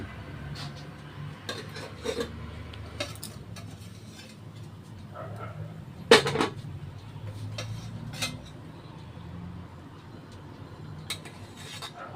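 Khaata kachori is served onto a plate with faint scraping and rubbing, light clinks of cutlery and dishes, and one sharper clatter partway through, all quiet and close.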